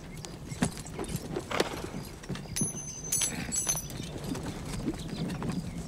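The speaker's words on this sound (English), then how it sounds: "A couple of horses, Slater." A couple of horses' hooves clip-clop at a steady walking rhythm on a western town street, fairly close and moderately loud, with faint chirping in the background.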